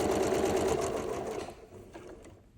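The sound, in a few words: sewing machine sewing curved quilt block pieces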